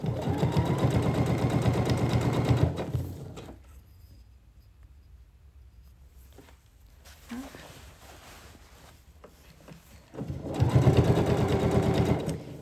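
A sewing machine stitches a pair of trousers in two steady, loud runs of fast mechanical whirring, separated by a few quieter seconds of handling noise.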